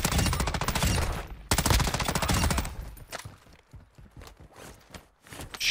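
Rapid, loud bursts of shotgun fire in the Call of Duty DMZ video game, a dense volley early on that thins into scattered sharper blasts and clatter, with no talk.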